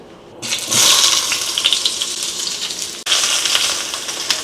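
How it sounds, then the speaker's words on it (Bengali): New potatoes from the garden drop into hot oil and break into a loud, steady sizzle close by, a dense hiss that keeps going with a brief dip partway through. "তেল গরম হয়ে গেছে এই সেই গাছের নতুন আলু ভেজে নিচ্ছি"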